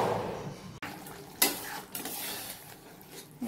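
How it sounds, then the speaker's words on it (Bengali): Potato and taro curry being sautéed and stirred in a pan, soft sizzling under scraping spoon strokes and a couple of sharp metallic clinks against the pot, fairly quiet. "এই যে এটাকে এখন ভালো করে কষিয়ে নিচ্ছি তরকারিটাকে।"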